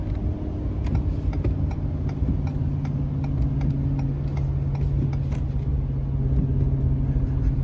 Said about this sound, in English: And 30 full throttle.